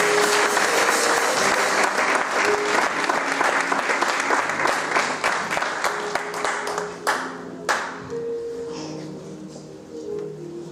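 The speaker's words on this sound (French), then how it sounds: "Lorsqu'il s'approche, on acclame très fort pour le Seigneur." A church congregation at a Sunday worship service claps loudly and enthusiastically, a dense, sustained wave of applause that thins toward the end into scattered claps.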